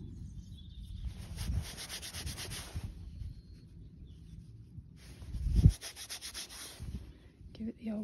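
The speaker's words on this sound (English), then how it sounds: "Trouser rub." Trousers rub against each other while a detectorist walks a field, producing steady swishing fabric friction in two long stretches, close and moderately loud, with a sharp thump in between.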